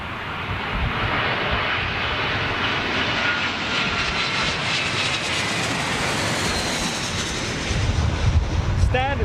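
A Virgin Atlantic A330 jet airliner roars on departure from the runway, a loud sustained engine rush with wind buffeting the microphone, heard from a distance with a faint voice near the end.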